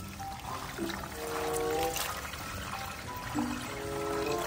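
Shrimp paste and rotten duck egg liquid pour into a balloon with a soft, steady trickling sound, quiet and close, with faint background noise.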